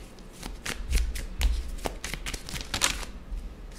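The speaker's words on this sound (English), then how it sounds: "the cards are new, so they're a little slippery, but I'm going to give it a good shuffle" New, slightly slippery tarot cards being shuffled close up, a crisp riffling and flapping with a few louder slaps, continuous for several seconds with no talking.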